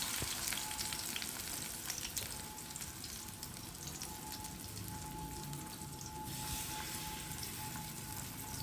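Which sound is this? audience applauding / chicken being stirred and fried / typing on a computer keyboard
chicken being stirred and fried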